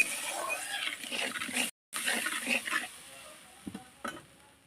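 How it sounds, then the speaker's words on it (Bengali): Tamarind water poured into a kadai and stirred for an egg curry, giving a broadband hiss of liquid hitting hot oil with scraping stirs. One brief gap near the middle, then the sound thins to a quieter simmer with a few clinks. "জলটা এবার আমি কড়ার মধ্যে দিয়ে দেব দিয়ে বন্ধুরা ভালো করে নেড়ে নেব"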